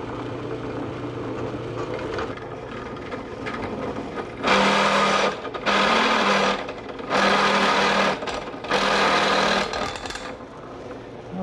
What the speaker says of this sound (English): So I've set up my step drill in the drill press.